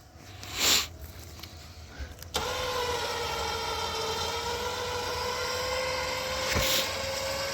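An X-Bull XPV 10k winch starts with a sudden electric whir and then pulls a heavy Jeep 4xe, a steady close motor drone with a faint tonal whine held for several seconds.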